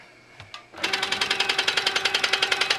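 A sewing machine quilting a ribbon candy border on a pillow sham, starting up after a brief pause and then running steadily with a fast, even stitching rhythm, close and loud.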